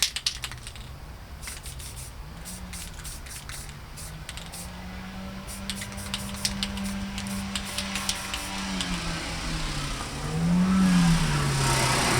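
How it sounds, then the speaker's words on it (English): A car passes outdoors, a steady engine drone rising and falling in pitch as it moves by over a hissing background with scattered light clicks, swelling louder toward the end. "Did you guys see that car that just went by?"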